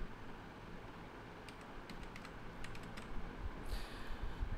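Short runs of keystrokes on a computer keyboard while tax figures are entered, light and fairly close over a steady background hiss, with a few scattered taps then a quick cluster near the end.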